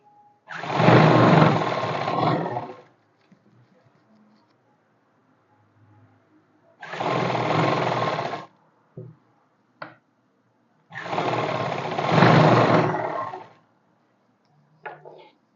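A sewing machine stitches trousers in three loud bursts of a couple of seconds each, with quiet gaps between them and a few brief clicks, apparently from a coarse, long stitch setting.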